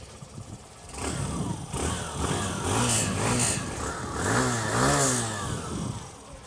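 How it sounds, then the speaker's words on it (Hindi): Hero Glamour motorcycle exhaust heard close up, idling then revved in several blips with rising and falling pitch, a steady mid-pitched engine note throughout with no talking. "सो ये है ग्लैमर का एग्जॉस्ट नोट।"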